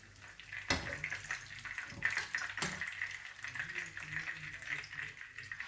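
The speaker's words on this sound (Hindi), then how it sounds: "अभी मैं सारे फ्राई कर लेता हूँ" Peshawari chapli kebabs fry in a pan with a dense, steady sizzle of hot oil heard close up, broken by a couple of brief scraping knocks.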